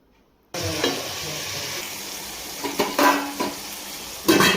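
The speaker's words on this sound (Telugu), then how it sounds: "సాల్ట్ వేయటం వల్ల ఆనియన్స్ కూడా త్వరగా ఫ్రై అయిపోతాయి." Onions sizzle and fry in a hot pan with added green chillies, a steady close crackle broken by a few louder stirring scrapes, and no one speaks.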